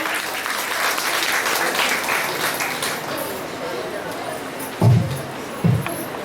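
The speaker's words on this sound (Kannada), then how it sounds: "ಬರಲಿ ಚಪ್ಪಾಳೆ." An audience at a school anniversary and Kannada Rajyotsava event claps steadily, a broad even wash of applause that fades, followed by a couple of soft thumps.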